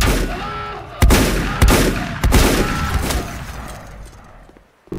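Enemy fire from a drillship in the video game Volcanoids cracks out in several loud, close bursts with ringing tails that fade before one more sharp shot at the end.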